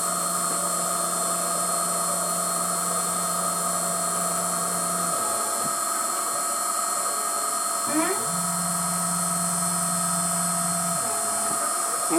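An Emco F1 CNC milling machine with a high speed steel cutter at 1700 RPM machines a Kity bed guide block, giving a steady high whine with a lower cutting tone that drops out briefly twice.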